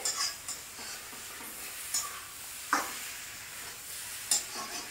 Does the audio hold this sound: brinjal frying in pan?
yes